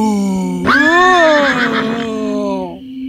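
Close and loud, a horse lets out a single long whinny that rises sharply then wavers and trails off over about two seconds, set within a French fairy-tale narration.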